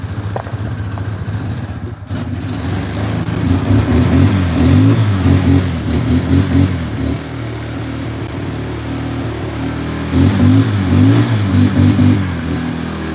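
A new ATV engine runs on choke, loud and close, rising and falling in repeated rough revving surges over a steady throbbing idle.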